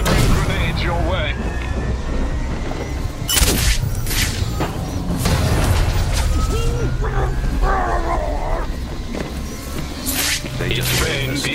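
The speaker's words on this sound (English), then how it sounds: "They're delivering grenades your way." Grenade explosions in Batman Arkham Origins multiplayer on PC, a string of game blasts and gunfire bursts scattered across a busy battle mix, with a voice talking over the action.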